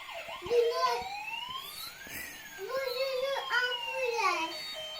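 A toy ambulance siren wails with rising and falling tones while a child chatters over it, fairly quiet and close.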